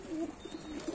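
Tumbler pigeons coo in a low, soft, rolling murmur, a few faint repeated calls close by with no talk.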